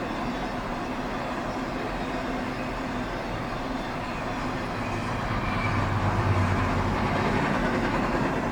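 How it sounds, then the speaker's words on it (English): A CSX intermodal freight train passing nearby, producing a steady, loud rumble with rolling wheel noise that continues throughout and swells slightly toward the end, with no voices. "Symbol on that train is CSX I-009"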